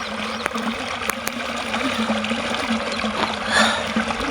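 Water flows and trickles steadily through a farm channel with a soft continuous rush, close by and moderately quiet, with no voices.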